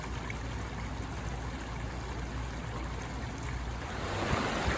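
The Blue River near Breckenridge in fall flows steadily over rocks, a constant soft rushing of water heard up close on its own, rising slightly toward the end.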